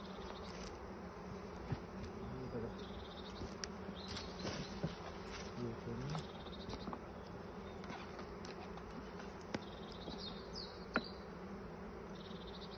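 Many honey bees buzz softly and continuously nearby at an apiary, a dense droning hum with occasional individual insects passing closer.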